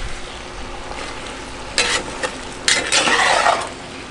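Potatoes seasoned with coarse black pepper are stirred in a Dutch oven, giving a soft sizzle with a few scraping bursts of a spoon against the pot, close and without talk.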